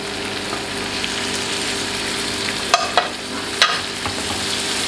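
Vinegar-washed, dried prawns sizzle and crackle loudly in a pan of fried garlic over a high flame, a steady broadband frying hiss with a few sharp pops and stirring clatters and no voices.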